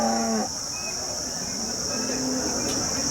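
HF dairy cows mooing at the Sangola cattle market in Maharashtra, a low drawn-out moo opening the clip, then fainter lowing over a steady high-pitched background tone.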